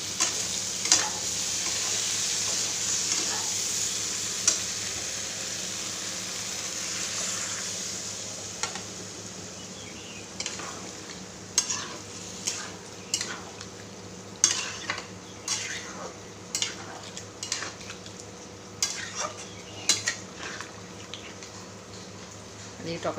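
Green jackfruit curry sizzles in a pan on the stove, a steady fry hiss at first, then sharp, irregular scrapes and clinks of a utensil stirring it, fairly close, with quiet speech nearby.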